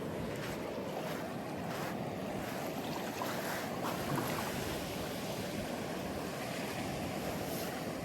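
Steady, loud wash of ocean surf breaking along Sanur Beach in Bali, a continuous broadband roar mixed with wind buffeting the microphone, with no voices over it.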